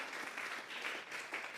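A church congregation claps together during a Spanish-language Sunday service, a steady, dense wash of applause filling the room with no voices over it.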